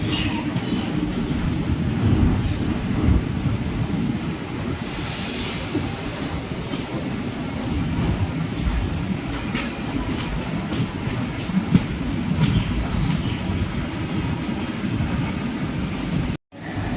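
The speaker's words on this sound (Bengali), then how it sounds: "আমাদের ট্রেন এখন মেচেদা স্টেশনে ঢুকছে।" The Jagannath Express from Puri rolls into Mecheda station, a steady low rumble of wheels and carriages with rhythmic rail clatter and a few thin squeals as it slows, heard from on board.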